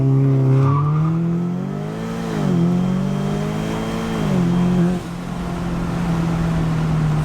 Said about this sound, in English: I'm gonna do a launch control